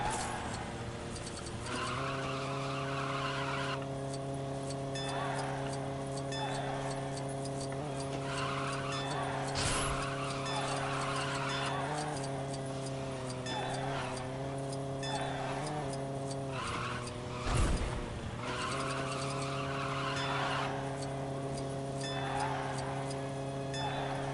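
A nitrous-equipped car races in Lego Batman 3: Beyond Gotham, its steady droning engine tone running throughout with repeated tire skids and squeals and a couple of sharp impact bursts.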